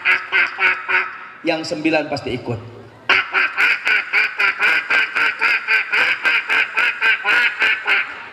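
A man imitates a flock of ducks with a long run of rapid, rhythmic nasal quacks, loud and close, interrupted briefly by spoken words before the quacking resumes.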